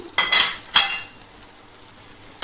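Potatoes and soybeans being mixed into a spice masala in a pan for a Bengali-style soybean dish, with a few sharp utensil scrapes and clinks early on and another near the end, quiet in between.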